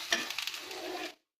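Carrots are stirred and fried in a pan for vegetarian American chop suey, giving a brief, close sizzle with a few scraping stirs before it cuts off abruptly.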